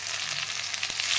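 Tomato sautéing with onion, cumin and mustard in a pan: a continuous close sizzle with a brief scrape or knock near the end, and no talking.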